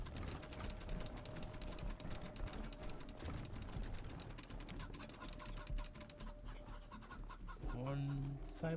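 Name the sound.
cyborg chicken clucking in video game Wasteland 3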